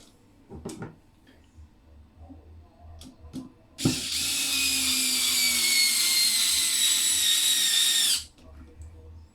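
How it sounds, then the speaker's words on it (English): Cordless electric screwdriver driving a screw to fasten a plate on a Tamiya TT01 RC truck chassis, a few light clicks and handling taps followed by one loud, close whirring run of about four seconds that stops abruptly. "This screwdriver just makes things so much easier and quicker."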